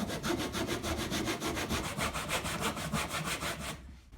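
Hand saw cutting through wood while building a bench hook, steady rhythmic back-and-forth rasping strokes, close and loud, stopping just before the end.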